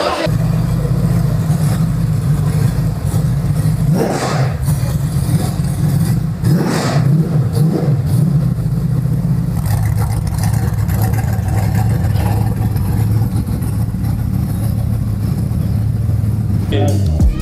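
A Nissan S14's engine idles and revs loudly and close up, with a couple of rising rev bursts and crackling exhaust pops and bangs, while people talk over the steady engine drone.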